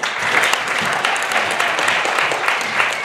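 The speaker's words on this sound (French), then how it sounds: "On applaudit Jean." Loud, sustained audience applause fills a municipal cinema at a children's film festival screening, many hands clapping in a thick continuous wash without speech.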